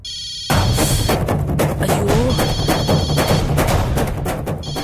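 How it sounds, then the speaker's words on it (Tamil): A telephone rings loudly and steadily for several seconds right after a brief quiet start, the repeating electronic ring filling the room with no one speaking over it. "பத்மா மேடம் வேற ஃபோன் பண்றாங்க"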